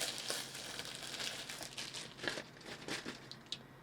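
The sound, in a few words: ripping open the packaging of a Temu wireless lavalier microphone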